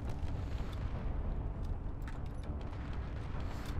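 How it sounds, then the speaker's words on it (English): Rockets fire in a Space Engineers ship battle, a dense low rumbling roar with scattered sharp bursts and booms continuing at a steady level throughout. "let's just try equaling the playing field a bit here by firing some of these rockets back"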